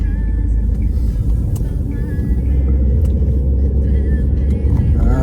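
A car driving through Belgrade city streets produces a steady, loud low engine rumble and road noise from inside the vehicle, continuous with no pauses.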